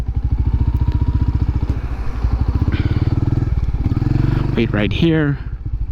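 Royal Enfield Hunter 350 motorcycle engine thumping steadily at close range with rhythmic exhaust pulses, loud and continuous, while a person speaks briefly over it near the end.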